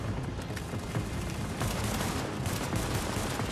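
Pistol gunfire in the video game The Division, a dense run of rapid shots mixed with other weapons firing in a continuous loud barrage.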